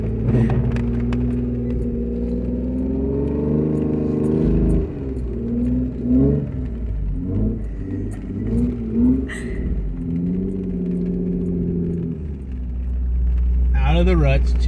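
A two-wheel-drive vehicle drives out of the ruts through about a foot and a half of falling snow, its engine droning and revving steadily close up beneath a voice talking throughout.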